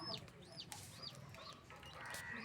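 Chickens cluck on a farm over about two and a half seconds, with repeated close, moderately loud calls rising and falling in pitch, some overlapping, above faint background noise.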